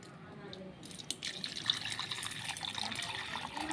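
Water splashes and trickles steadily into a container holding cut paper pieces, a close, continuous pour with a few sharper splashes.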